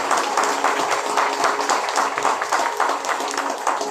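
A church congregation at a Sunday worship service applauds, steady dense clapping that continues at an even level throughout.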